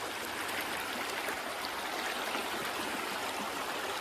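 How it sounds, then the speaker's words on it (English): Bowman Creek in Noxen, Pennsylvania, flowing with a steady, even rush of water and nothing else over it. "we are along the Bowman Creek"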